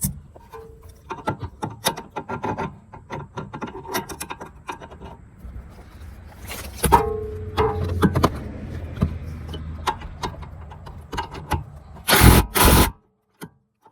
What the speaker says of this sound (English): Now we're gonna tighten it.